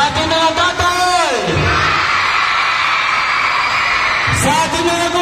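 Schoolchildren at an elementary school foundation day celebration cheer and shout loudly for their fathers, a dense crowd roar under sustained yelling, with an amplified voice calling out over it at the start and end.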